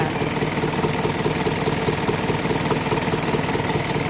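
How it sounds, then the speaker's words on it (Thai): A 210 hp ROBOCOP4HK vehicle's engine runs with no muffler, giving a loud, steady, rough drone with a constant throb that holds for the whole stretch, close by and with no talk over it. "ฟังเสียงเครื่องนะคะ ไปพร้อมๆนะคะ ตัวนี้ไม่มีท่อพักนะคะ"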